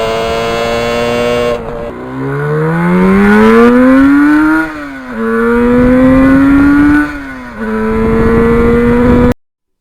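A 1977 Yamaha RD400 two-stroke motorcycle engine revs loudly and up close, its pitch climbing and falling through several rising sweeps with brief dips between them, then cutting off abruptly.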